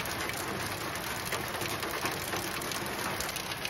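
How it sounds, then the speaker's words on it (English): Steady, heavy rain pours on an off-grid homestead, an even, dense hiss of drops hitting surfaces that runs unbroken and loud throughout, with no voices. "I'm waiting for the rain to stop."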